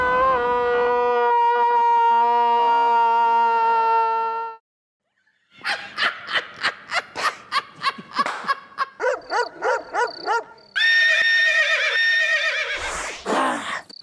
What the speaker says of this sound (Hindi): घोड़ा है ना, अरबी घोड़ा।